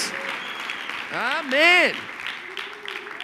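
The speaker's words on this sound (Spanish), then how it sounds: "Démosle un aplauso a Jesús." A church congregation applauds for Jesus, a moderate wash of clapping running under loud, sung or drawn-out spoken voices, including a short exclamation in Spanish.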